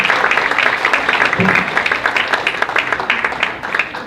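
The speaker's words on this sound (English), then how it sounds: "Big round of applause for these students" Audience applause for high school students after a public speaking final, a steady wash of clapping across the whole stretch, fairly loud and close, with little else over it.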